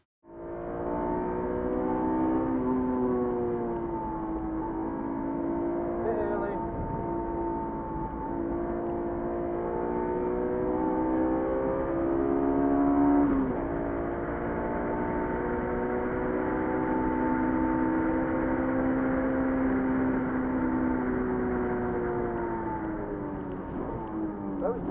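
A Honda S2000 circuit car laps Anglesey race track, its high-revving engine droning loud and close throughout, with pitch rising through gears and dipping at shifts.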